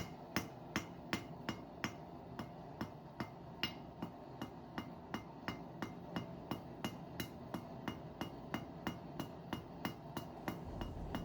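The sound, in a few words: hammer tapping bronze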